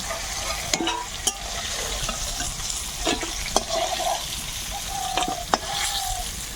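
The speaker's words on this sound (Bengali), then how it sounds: "কালকের মাছ রাত্রে সেটা এখন আবার একটু ভেজে নেব" Leftover fish from the previous night sizzles as it is fried again in a pan, a continuous hiss punctuated by several sharp taps and scrapes of a spatula. No voices are present.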